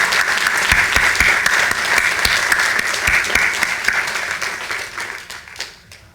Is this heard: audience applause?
yes